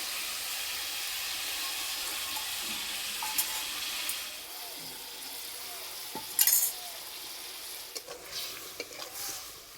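Sesame paste mixture being stirred into cauliflower cooking in a pan, a soft steady sizzle with faint stirring and a brief scrape or clink partway through.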